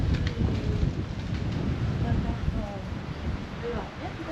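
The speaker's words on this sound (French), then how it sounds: "Ouh, il y a du vent." Gusty wind buffets the microphone in the lanes of the medieval village of Saint-Guilhem-le-Désert, a loud rumbling rush that rises and eases over several seconds.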